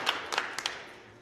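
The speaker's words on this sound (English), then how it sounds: "I was clapping for the film" A few quick hand claps in a small group, close and fairly soft, sounding roughly as two pairs of sharp slaps before quiet.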